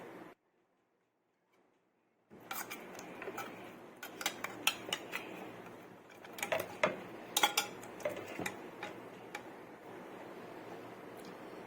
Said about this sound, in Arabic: هنفتح علبه التونه كده وننزل بيها